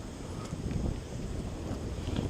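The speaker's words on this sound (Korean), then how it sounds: "여기저기서 지금 바람이 너무 세게 불어가지고" Strong wind buffets the microphone at a freshwater fishing spot, a steady low rumbling roar with gusts swelling and easing throughout, loud and close, with no voices.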